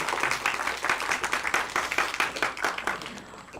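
Audience clapping at a Korean big data service developer course project presentation event, a steady rhythmic round of applause filling the room, fairly close and even throughout.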